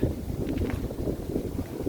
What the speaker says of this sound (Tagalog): Mahangin eh, mahangin.